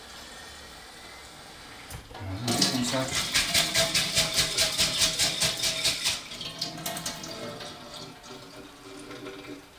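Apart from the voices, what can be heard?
water running into a container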